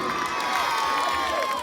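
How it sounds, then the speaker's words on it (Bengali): A large audience cheers and shouts without a break, children's voices mixed into a dense, steady roar that stays loud and close from start to finish. "জোরে হাততালি, জোরে হাততালি।"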